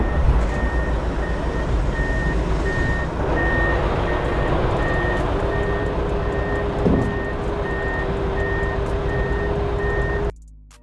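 A Mack truck reverses off a hillside loading spot, its backup alarm beeping in a steady evenly spaced pattern over a loud continuous diesel engine rumble that cuts off abruptly near the end.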